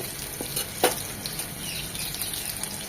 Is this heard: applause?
no